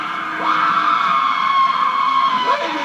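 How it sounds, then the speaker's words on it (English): Several people scream and yell in a sustained, high, frantic chorus that rises and wavers for a few seconds, on a 1950s civil defense record. "The people screaming"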